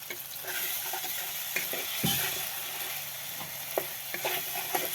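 Spice masala fries in a pan with a little water added for doi rui, a dense bubbling sizzle throughout, dotted with clinks and scrapes of stirring and a louder burst around the middle.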